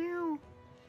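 A pet cat gives a single short, clear meow close by, falling in pitch before it ends, followed by quiet room tone.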